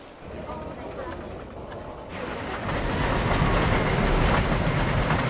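A roller coaster train in the video game Planet Coaster rattles along its track with a continuous rumbling clatter that grows louder and denser midway, steady and close throughout.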